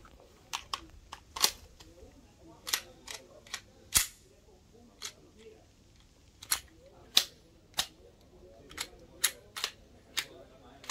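Canik pistol shots crack out one by one during shooting practice, about a dozen sharp, separate reports spread unevenly across the stretch over a quiet background.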